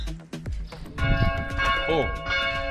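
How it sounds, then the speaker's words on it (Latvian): Church bells ring out in a Croatian village near Kaštela, with a person talking over the tolling bells, which swell and overlap with sustained ringing tones. "tas baznīcas zvanu skaņas no rītiem neļauj gulēt"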